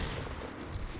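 A video game gunshot cracks out as a short, dense burst of gunfire at moderate level, with no voices over it.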